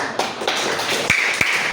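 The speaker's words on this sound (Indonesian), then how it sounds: "Sekali lagi kita tepuk tangan untuk" Students in a primary-school Islamic religion class give a few sharp, well-spaced hand claps, close and fairly loud, over faint room murmur.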